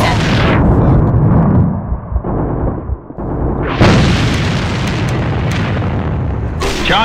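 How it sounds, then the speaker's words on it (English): A grenade blast in the shooter game AVA, a loud broadband boom surging up around the four-second mark and rumbling on amid continuous gunfire and battle noise, with brief radio-style voice chatter in the mix. "Grenade!"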